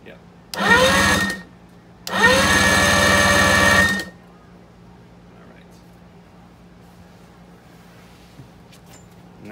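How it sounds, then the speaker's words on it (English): An Evinrude E-Tech 90 outboard engine, once seized, turned over by its key starter in two loud whirring cranking bursts, a short one followed by a longer one, then quiet with no start. "Let's see if the key will actually do it, the starter."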